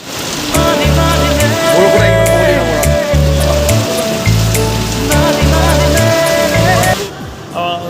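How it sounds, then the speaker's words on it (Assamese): Heavy rain in Guwahati roars steadily on a surface, a dense constant wash, while a low rhythmic thumping pulses underneath. "এজাক ধাৰাসাৰ বৰষুণো আহিছে গুৱাহাটীত"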